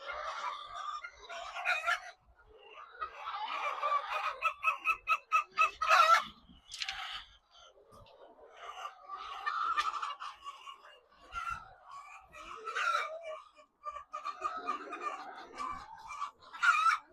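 Hens in a coop cluck and squawk, with rapid rhythmic bursts of calls and some crowing, fairly close and moderately loud, coming in uneven clusters separated by quieter gaps.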